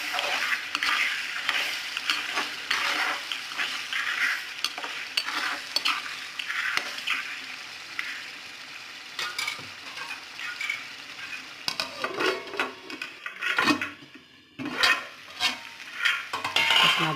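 Brinjal curry with turmeric powder and rock salt is stirred in a pan, a spoon scraping and clinking against the metal over a soft sizzle, with a few sharper knocks near the end.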